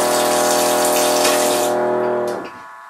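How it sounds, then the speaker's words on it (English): Water gushes loudly from a kitchen tap into a sink in a tiny house on a well pump, a steady close rush with the pump's hum beneath, cutting off near the end. "I am just going to fill up my sink"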